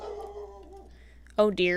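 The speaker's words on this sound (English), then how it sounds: "I can hear the neighbor dog outside freaking out over something, and my dog is freaking out now" A dog yips and whimpers in two sharp bursts near the end, following a stretch of quieter whining mixed with a person speaking softly indoors.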